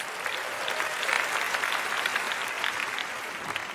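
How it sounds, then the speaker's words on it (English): Audience applause at a live talk, a dense steady burst of many hands clapping together that runs evenly throughout, with no voices over it. "Give all 3 helpers a round of applause."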